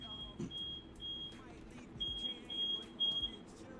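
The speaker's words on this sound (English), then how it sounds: "There's a fire alarm going off somewhere." A fire alarm sounds from a nearby house, a thin, steady high electronic tone pulsing on and off in the distance, over faint outdoor rumble and passing traffic.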